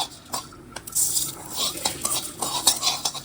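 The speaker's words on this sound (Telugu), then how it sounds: "ఇప్పుడు మనం ధనియాలు వేసుకున్నాం" Coriander seeds stir and fry in a pan for a mutton and drumstick curry, giving a close, busy rattle and scrape of a spoon against metal with a light sizzle underneath.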